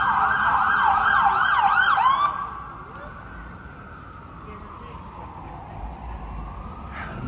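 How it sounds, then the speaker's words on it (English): Loud wailing emergency vehicle sirens sweep up and down on a busy New York City street in Midtown, dominating the first two seconds before fading into steady traffic noise, with a brief horn-like burst near the end. "Oh, there's so many sirens here."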